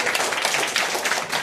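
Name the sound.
children clapping loudly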